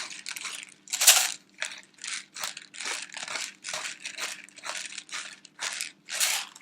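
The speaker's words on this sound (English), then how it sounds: "pepper grinder." Pepper grinder cranked over a bowl of tabbouleh, a run of about a dozen close, crisp crunching bursts in an even rhythm, alone with no talk.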